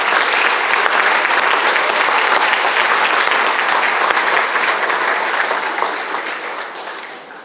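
A large crowd at a sixth grade school awards ceremony applauds loudly and steadily, the clapping sustained before gradually tapering off at the end.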